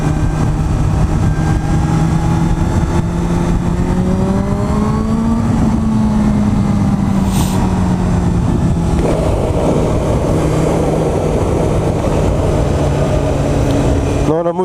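Four-cylinder motorcycle engine holding a steady drone while riding easy curves, pitch rising and falling smoothly with a shift partway through, loud and close under wind noise, with someone talking over it.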